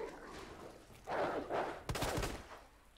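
Revolver gunfire in a first-person Resident Evil 2 Remake, with a sharp burst of shots near the end following muffled game noises and effects.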